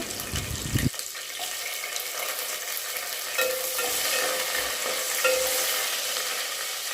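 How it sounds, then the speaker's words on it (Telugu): Green chillies stirred into a frying mutton curry: a clack of the spoon, then a steady close sizzle with soft scraping stirs and no talk. "పచ్చిమిర్చి వేసుకొని కలుపుకోవాలి"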